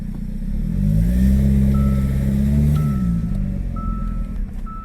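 A 2013 Hyundai Santa Fe with a loss of power accelerates at full throttle, its engine droning loudly and rising in pitch before easing off, with a thin intermittent high tone riding above the engine.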